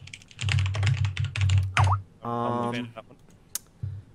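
Fast typing on a computer keyboard, close and clear, a dense run of key clicks followed by a short tonal blip and a few scattered taps.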